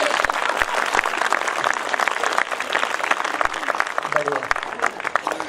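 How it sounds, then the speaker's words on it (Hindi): An audience at a Hindi kavi sammelan poetry gathering applauds, dense steady clapping from a full hall that carries on throughout, loud and close, with a voice briefly heard near the end. "एक बार तालियों से पूर्ण सदन मुझे"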